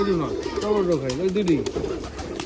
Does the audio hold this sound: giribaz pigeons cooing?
yes